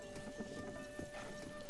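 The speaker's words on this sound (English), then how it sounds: "There's someone here with a horse and wagon here anyway." A horse pulling a wagon in Zelda: Tears of the Kingdom, with hooves clip-clopping faintly in a quick, steady rhythm over a quiet background.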